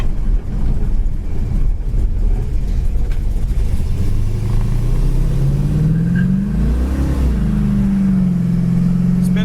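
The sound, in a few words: 1971 Dodge Charger driving down the road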